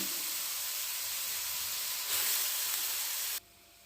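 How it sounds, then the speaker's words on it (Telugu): Grated pumpkin sizzles steadily in hot ghee for a pumpkin halwa, a dense continuous hiss that swells briefly near the end before cutting off abruptly. "ఇప్పుడైతే ఇదే నెయ్యిలోనైతే మనమైతే గుమ్మడికాయ అయితే వేసేద్దామండి"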